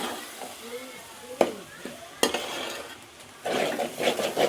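Clam stir-fry with chili powder being stirred in a pan: soft sizzling with sharp utensil scrapes and clinks against the pan, then a louder burst of frying hiss near the end, with a voice speaking faintly in places.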